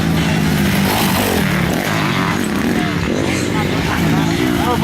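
A motorcycle runs on a motocross track, its engine droning and revving at a distance beneath loud, close conversation that continues throughout.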